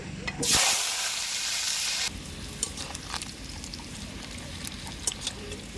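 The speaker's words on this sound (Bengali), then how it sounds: "আলুগুলো ভেজে নেব" Potatoes hit hot mustard oil in a pan with a loud burst of sizzling that settles into a softer, steady fry, with a few light clinks of utensils. There is no speech.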